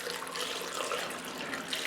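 Water is poured from a cup into a large stock pot of cut apples, a steady, soft splashing rush that runs on without a break, quiet and close.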